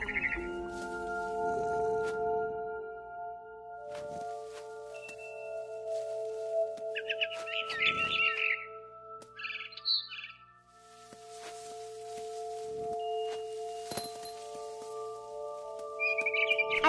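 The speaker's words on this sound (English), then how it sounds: "It was a barn swallow going back to her nest." A barn swallow in What Remains of Edith Finch chirps in bright, quick bursts of tweets, clustered in short flurries over a steady hum of background tones, fairly close and clear with no talk.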